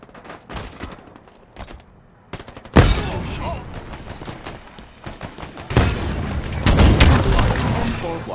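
A grenade blast in the Halo Infinite video game booms loudly midway, amid scattered gunfire and a second burst of explosive combat later, with a game announcer voice between the hits.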